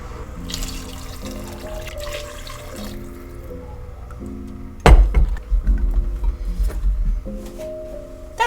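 Water and homemade broth pour into a soup pot for a vegan broccoli cheese soup, giving a steady splashing stream that swells loud partway through, with a few clinks, over faint kitchen background.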